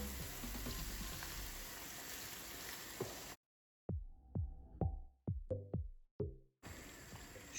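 Ingredients fry in a pan before cream goes in, a steady sizzle broken by a pause and then a string of sharp clinks and scrapes of a utensil against the pan.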